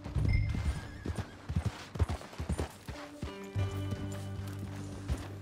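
Horse hooves in Red Dead Redemption 2 beat out an uneven clopping rhythm at close range, with a few heavier thuds, then give way to a sustained tonal hum near the end.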